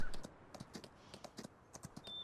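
Horse hooves clip-clopping steadily while being ridden in Farming Simulator 19, a quick repeating rhythm of close, soft thuds with no talk.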